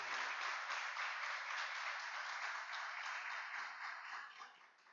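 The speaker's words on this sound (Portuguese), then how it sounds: "Vamos aplaudir a Deus pela vida deles, queridos." A church congregation claps together in steady, dense applause that holds strong and then tapers off near the end, with no voices standing out.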